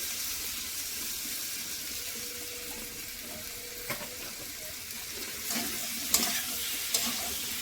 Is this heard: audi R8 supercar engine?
no